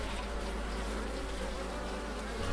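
Honeybees drone steadily at an opened beehive, a dense, close, continuous buzzing of many insects with no voices.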